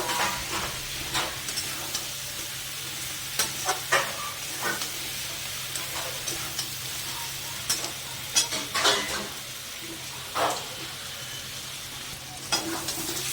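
Potato and onion fry in a pan with a soft steady sizzle, punctuated by scattered clicks and scrapes of stirring, fairly quiet and close.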